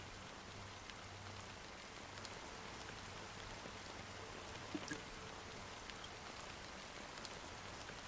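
Black rain drizzles steadily in Honkai Star Rail, a soft continuous hiss of drops falling evenly at low volume without pause or voices.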